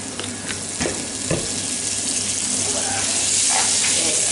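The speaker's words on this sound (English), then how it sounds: "That's a much better sizzle." Beef sizzles and spatters in hot oil in a pan, a steady crackling hiss with a few clinks from utensils.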